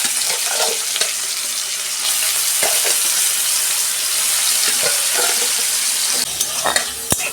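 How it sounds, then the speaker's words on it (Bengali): Prawns frying in hot oil, a loud dense crackling sizzle that runs continuously, broken by a few scraping stirs, close up and with no speech. "তেল গরম হয়ে গেছে, মাছগুলো ভেজে নেব।"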